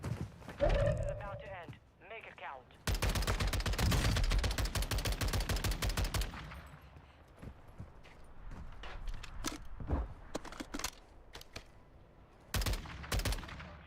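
Gunfire in Call of Duty Warzone on the big Al-Mazrah map: a long, loud stretch of rapid automatic shots with a few scattered single shots afterward, while players talk over it.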